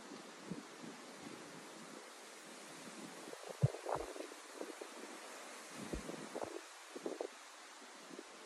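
Strong wind at a wild pond buffets the microphone in uneven gusts and low rumbling thumps over a faint steady rush, with no voices.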